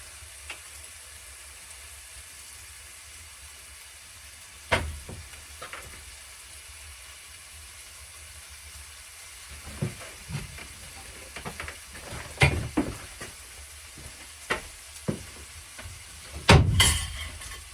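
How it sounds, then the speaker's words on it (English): Soft continuous sizzling from a pan on a stove aboard a narrowboat on a snowy day, with intermittent clanks and scraping of stirring growing louder toward the end. "Oh, I can hear a sizzle."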